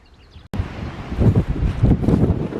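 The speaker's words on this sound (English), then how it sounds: "Need to be quick because it's so windy now." Strong wind at the Verdun battlefield buffets the microphone in a low, rumbling roar that starts abruptly and keeps gusting steadily, with no voices.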